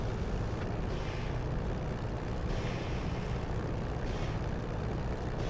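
Aircraft engine idling at roughly 1300 rpm while taxiing in a DCS or War Thunder flight sim, a steady broadband propeller drone holding constant and fairly loud throughout with no talk.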